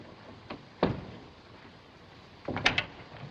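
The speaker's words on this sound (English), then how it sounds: "Shut the door." A stateroom door aboard a ship being closed, with a sharp knock near the start and a louder clatter and thud near the end over a quiet room tone.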